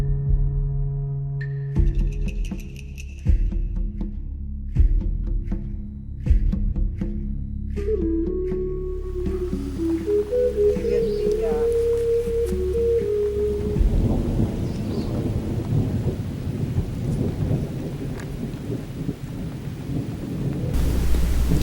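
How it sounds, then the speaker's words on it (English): A thunderstorm near the Xunantunich ruins in Belize, with deep, rolling thunder rumbling over steady rain that builds into a loud, dense downpour. "The storm that took the power out is still in the area and threatening to return"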